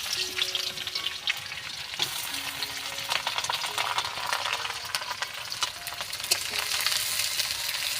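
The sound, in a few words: chopped onions frying in oil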